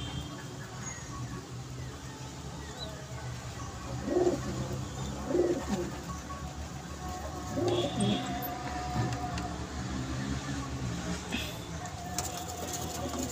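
Domestic pigeons kept for sale coo softly from close by, a few low throaty coos rising over a quiet room murmur.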